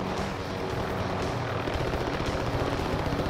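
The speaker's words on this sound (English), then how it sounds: "We're in separate helicopters," A helicopter in the video game Call of Duty Warzone thrums loudly and continuously, its rotor chop pulsing steadily and close throughout the short stretch.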